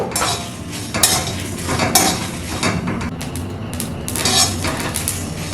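Whole fennel seeds and cumin seeds tossed in a dry pan for a jujube pickle, with steady scraping, stirring and metallic clinks of a utensil against the pan, close and fairly loud throughout.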